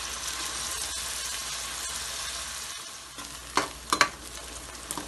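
Onions sizzle steadily in hot oil in a pan, a continuous broadband fry, then tomatoes go in and several sharp stirring clatters and bursts of spatter rise over the sizzle toward the end.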